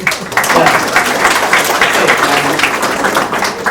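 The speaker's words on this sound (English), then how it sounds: "can we get a round of applause for them?" A crowd at a school district meeting applauds steadily, a dense wash of clapping that stays loud from start to finish.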